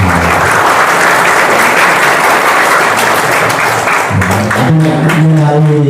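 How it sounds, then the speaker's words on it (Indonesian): Sustained, dense applause fills a hall of inmates at a prison Islamic boarding school gathering in Bojonegoro, steady and loud for several seconds before a voice cuts in near the end. "Tepuk tangan untuk kita semua"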